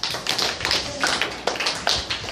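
Classroom of students clapping for a classmate, a brief burst of quick, overlapping claps in uneven pulses, fairly close and lively, lasting a couple of seconds without talk.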